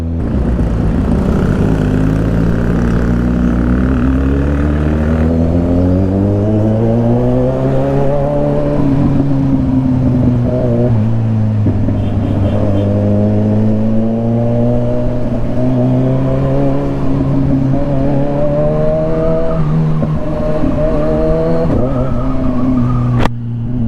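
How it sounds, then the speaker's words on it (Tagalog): Heavy road traffic with engines revving, heard from among scooters, as strong harmonic engine tones rise and fall repeatedly over a continuous loud rumble. "Antindi ng traffic guys"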